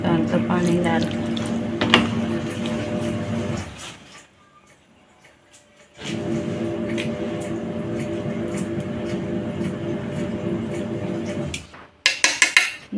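Water poured gently into a fish batter for crispy fried fish, a steady wet splashing in a kitchen that stops briefly midway, resumes, then ends with a few clinks.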